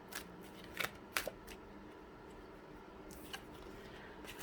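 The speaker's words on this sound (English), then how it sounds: "Now I'm going to pull some oracle cards here." Oracle cards being pulled and shuffled by hand, several crisp papery flicks and slides in short bursts, close and fairly quiet, with no talking.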